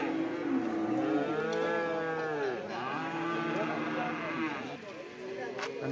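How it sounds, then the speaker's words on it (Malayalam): Cattle moo loudly and repeatedly at a livestock market, long drawn-out lowing calls close by, with voices and crowd noise underneath. "കാളയും മുരിയൊക്കെ ഒരുപാട് വന്നിട്ടുണ്ട് ചന്തയിൽ"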